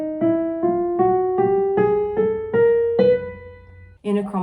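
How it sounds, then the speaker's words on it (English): A singer voices the chromatic scale, stepping upward in half steps on about eight short, evenly spaced sung notes, clear and close, followed by a brief different vocal sound. "And that is the chromatic scale."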